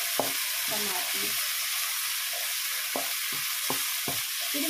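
Tomatoes frying in a pan for squid ink seafood rice give a steady, loud sizzle throughout, with several short scraping strokes of a spoon stirring them.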